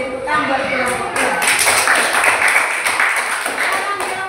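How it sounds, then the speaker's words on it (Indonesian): A group claps for another group at a classroom gathering: dense, continuous hand claps fill the whole stretch at fairly close range, mixed with voices. "Kita beri tepuk tangan buat kelompok dua."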